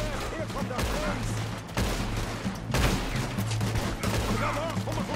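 Gunfire in the Western game Red Dead Redemption 2: a near, continuous fusillade of rapid shots with several heavy blasts, ongoing for the whole stretch with talk faintly mixed in.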